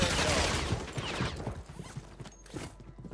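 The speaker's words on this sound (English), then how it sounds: "I'm getting shot by the other guys." Gunfire from Call of Duty on Rebirth Island, a burst of rapid shots at the start that thins into scattered single cracks at a moderate level.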